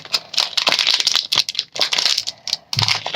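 Crinkly plastic wrapper of an orange power ring candy being worked at by hand, a run of close, bright rustling and crackling bursts with short pauses, no talk.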